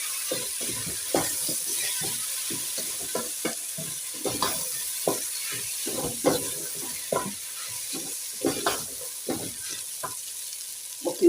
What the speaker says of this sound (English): Now we have to keep on turning so that the rice will not stick.